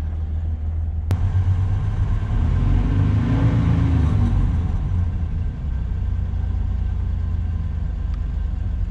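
A Oldsmobile Cutlass Supreme engine runs close by, a low steady rumble that swells briefly as it revs, then settles back to an even idle.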